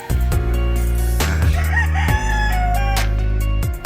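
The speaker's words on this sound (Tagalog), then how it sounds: "ito na pala yung manok natin mga ka-farmers" A rooster crows loudly and close by on a farm, several long calls in a row with a short break between them.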